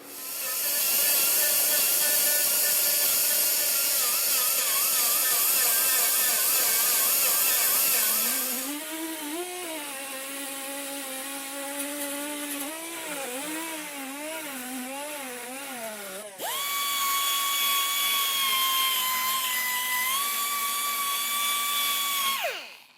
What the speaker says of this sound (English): Now I can sand this smooth.